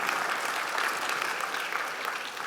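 Audience at a leadership association conference plenary breaks into steady, dense applause, a continuous wash of clapping from a large room heard at moderate distance for the whole stretch.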